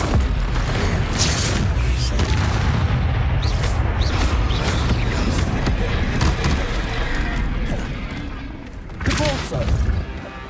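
Confringo spell blasts in Hogwarts Legacy, a steady roar of booming impacts and crashes lasting most of the stretch, loud and close, fading briefly before a final burst, with a voice casting spells over it.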